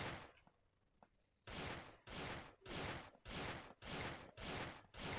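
Bursts of gunfire from a shooting video game come in a steady rhythm of about six loud, sustained volleys after a quieter start with a couple of faint single shots; no talk is heard.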